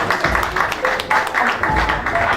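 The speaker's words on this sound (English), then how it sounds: "A round of applause for this man." A panel-discussion audience applauds a resource person, a steady patter of clapping for a little over two seconds with scattered voices mixed in.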